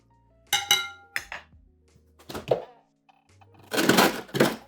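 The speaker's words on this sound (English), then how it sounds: "So let's give it a stir here." Brandy punch stirred in a bowl, giving a few bright clinks and knocks of utensil against glass or ice in short separate bursts, close and fairly loud, with no talking.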